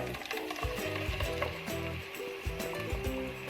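Ground paste of two medium tomatoes poured into a hot pan, giving a steady close sizzle and frying hiss for a few seconds, with low rumbling bursts as the paste hits the oil.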